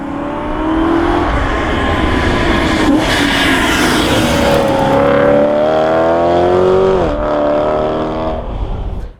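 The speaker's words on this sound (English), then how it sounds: "Today I am driving a BMW E92 M3" A BMW E92 M3 engine drones loudly and steadily throughout, its pitch rising as the car accelerates through the revs, then dipping briefly near the end before it settles back, with no voices over it.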